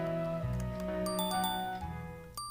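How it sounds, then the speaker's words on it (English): A video game alarm clock chime rings out in bright, repeating tones over a sustained melodic tune, clear and close. "Clock ringing."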